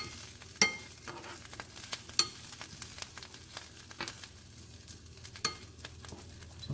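Hostas and ramps fry in butter in a pan with a steady close sizzle, broken by a few sharp stirring clicks and scrapes; no one speaks.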